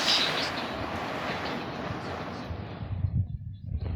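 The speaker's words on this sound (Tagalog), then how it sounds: "Grabe lakas ng agos." Strong floodwater current during a typhoon rushes steadily as a broad, roaring wash close by, easing slightly toward the end with a few rumbling bumps.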